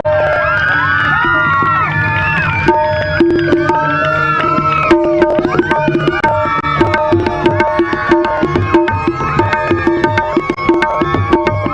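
A crowd at a Christmas celebration cheers and shouts loudly and without a break, with children's voices and scattered clapping throughout.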